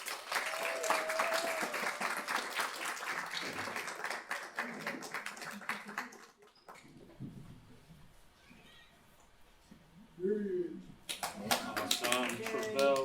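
Applause for an intern at an internship final celebration, a dense patter of claps for about six seconds that fades into a quieter stretch, with voices speaking over the end and clapping returning near the close.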